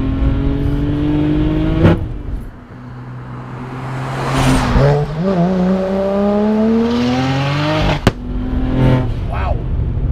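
An 830 whp BMW 335i on a runway revs hard and accelerates with rising engine harmonics, its exhaust cracking with sharp pops near 2 and 8 seconds, loud and close with people talking over it.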